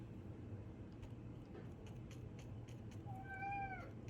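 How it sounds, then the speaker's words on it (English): A cat gives a single clear, drawn-out meow near the end, rising then falling, over a steady low background hum with faint clicks. "Meow."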